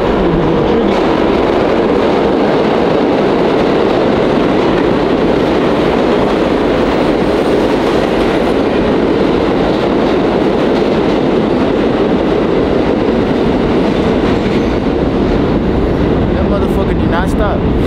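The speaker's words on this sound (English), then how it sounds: "we're on the subway" Loud, continuous rumble and rattle of a New York subway car moving along the tracks, with muffled voices under the din.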